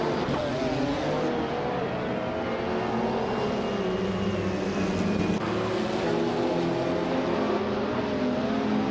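Race cars in a racing game roar and whine as they overtake, a continuous layered engine drone with rising and falling pitch from several cars close together, held steady throughout.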